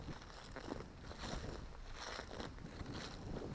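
Wind gusting outdoors at a metal detecting site, a continuous broadband rush buffeting the microphone with surging swells throughout, no voices.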